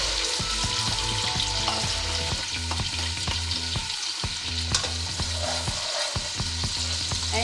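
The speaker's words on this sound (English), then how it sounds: "And you just saute until the onion becomes clear." Garlic and onion saute in hot bacon grease for Southern greens, a steady loud sizzle broken by rhythmic scrapes and clacks of stirring, close up with no talking.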